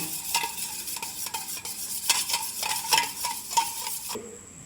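A spoon stirs salt into oil in a bowl while making rumali roti, producing a rapid, steady run of close scraping and tapping strokes that stops abruptly near the end.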